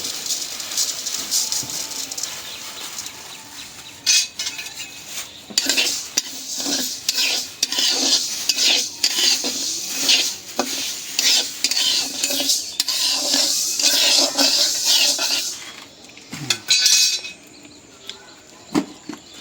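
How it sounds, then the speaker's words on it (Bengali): Rice and lentils are dry-fried in a pot for khichuri. A spatula scrapes and stirs them constantly with a grainy rattling hiss and repeated rhythmic strokes that run loud and close for the whole stretch, with no talking. "চাউল ডাল ভাজা শেষ।"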